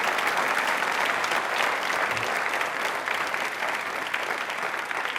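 At a televised Independence Day quiz event, a large audience claps loudly and continuously, a sustained wash of hand claps holding steady from start to finish.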